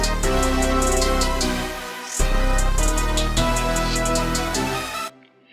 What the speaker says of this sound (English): So I just started with a 2-step hi-hat.